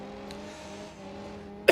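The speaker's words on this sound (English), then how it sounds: "I've turned it back up now, so you should be able to hear the engine sounds" A steady car engine drone in the video game BeamMP, racing on an oval track, with layered harmonic tones holding evenly throughout, ending in a sudden short loud burst at the very end.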